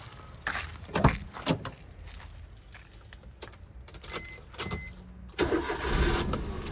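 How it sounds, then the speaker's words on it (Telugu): A 2018 Maruti Suzuki Alto K10 VXI petrol engine cranks and turns over with a few uneven bursts, then catches and runs, with some clunks nearby. "ఒక్కసారి ఇంజన్ కూడా ఆన్ చేసి చూపిస్తాను"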